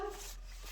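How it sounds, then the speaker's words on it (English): A dog barks and whimpers faintly in the background of a home craft room, a brief soft yelp standing out against a quiet room hum. "now you can probably hear Cooper barking in the background"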